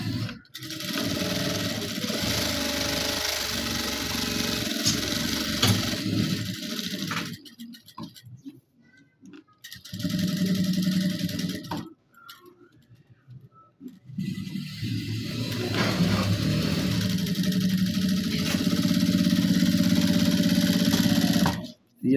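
A sewing machine runs double stitching along the edge of a men's suit collar, its steady loud whirring broken by several short pauses as the fabric is repositioned.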